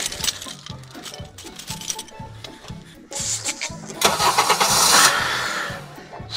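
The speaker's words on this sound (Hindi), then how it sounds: "Finally guys, गाड़ी स्टार्ट हो गई है।" A car engine is cranked by the starter in a rapid rhythmic chugging, then catches and fires up into a louder running roar, close by and alone.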